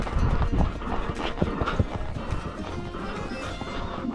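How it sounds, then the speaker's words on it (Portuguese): A horse's hooves clip-clop steadily at a walk on hard ground, close and fairly loud, with a brief whinny-like sound and light outdoor background noise throughout. "Deixei o cavalo do Renan, quero dar uma voltinha nele pra ver se ele é rápido."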